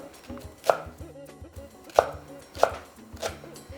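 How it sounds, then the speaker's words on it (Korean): A knife chops green onion into thick diagonal pieces on a cutting board while tteokbokki is being made. Three sharp, clear chops land at uneven intervals, close and distinct, with soft handling noise between them. "나중에 들어가는 대파는 이렇게 어슷어슷 굵직굵직하게"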